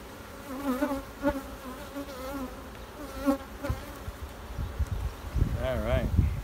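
Honey bees hum and buzz steadily around an open hive during a honey pull and queen check, a close, wavering drone with individual bees passing near, plus faint rustling and handling noises.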